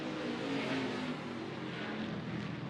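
NASCAR Xfinity race cars slide through turn 7 of a road course, their engines a steady, distant droning roar that holds at one level with no talk over it.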